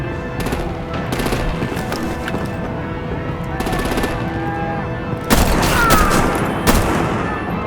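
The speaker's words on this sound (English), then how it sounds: "Break out the artillery and disable their vehicles!" Rapid automatic gunfire and artillery in a Batman: The Enemy Within action scene, sustained bursts throughout, with a sharper, louder barrage breaking in near the end.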